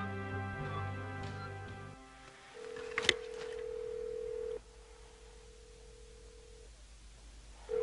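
A telephone call goes unanswered: a brief burst of dialing is followed by long, steady ring tones with pauses between them, heard alone and fairly quiet in a still room.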